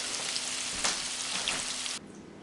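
Separated onions frying in a pan until golden and crispy, giving a close, steady sizzle with a few louder crackles; the hiss drops off sharply near the end. No one speaks.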